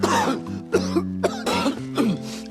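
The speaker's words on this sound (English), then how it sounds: "how Mr. Poe deals with his coughing fits." A person's coughing fit from being sick, several harsh, close coughs in quick bursts with short gasping pauses between them.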